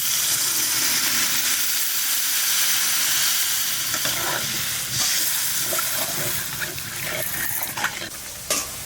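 Spice masala sizzles and fries in a pan as water goes in, with steady loud hissing and intermittent scraping stirs throughout, while fish curry cooks from a large 11 kg fish.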